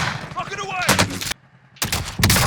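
Gunfire from the video game Call of Duty Warzone, with loud bursts of shots separated by a short silent gap, and game voice chatter heard around the firing.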